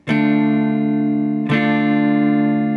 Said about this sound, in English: Once you have this chord formed, we're going to strum it down,